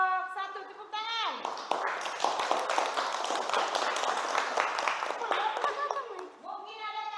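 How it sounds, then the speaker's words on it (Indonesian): A classroom group claps together for several seconds, a dense crackle of many hands framed by a teacher's voice speaking just before and after. "Tepuk tangan."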